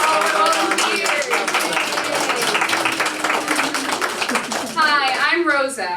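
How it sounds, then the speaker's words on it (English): An audience at a library children's theatre performance of The Jungle Book applauds the volunteers, brisk clapping that fills most of the stretch before a voice begins speaking near the end. "applause for all our volunteers"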